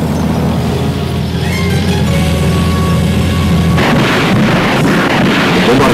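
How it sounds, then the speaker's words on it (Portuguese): Heavy artillery bombardment from 1945 wartime footage, a dense, continuous rumble of booming fire that grows rougher and more percussive partway through, loud and close with no speech. "O bombardeio cerrado abriu caminho para o assalto de Montgomery."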